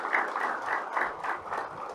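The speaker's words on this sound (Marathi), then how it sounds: "जोरात टाळ्या वाजवून आधी आपण सगळ्यांनी त्यांचं अभिनंदन करूयात" Audience at an education conference session applauding together, a steady mid-level wash of many hands clapping with gentle rhythmic swells across the whole stretch, no voices standing out.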